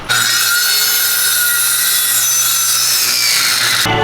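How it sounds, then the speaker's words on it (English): A power drill grinds loudly and steadily, pre-drilling a hole for lag bolts in a 2x4, one continuous bore lasting a few seconds before stopping abruptly. "Just pre-drilling some holes for the lag bolts in that 2x4."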